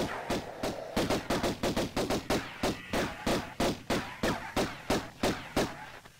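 Rapid gunfire from shooting in the game Tomb Raider 1: a steady burst of loud, sharp shots repeating about three per second for the whole stretch, with no talking.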